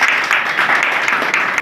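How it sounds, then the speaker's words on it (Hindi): An audience at an honouring ceremony held by a Hindu welfare trust gives a short round of welcoming applause, steady and fairly close, with a few distinct claps punctuating the dense clapping. "तालियों से स्वागत है एक बार"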